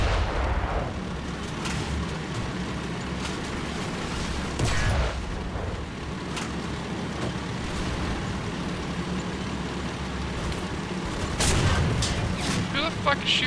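Rapid bursts of gunfire and booming blasts in a team video game match while attacking an enemy base, loud and continuous with heavy rumble and sharp cracks, under and around player chatter.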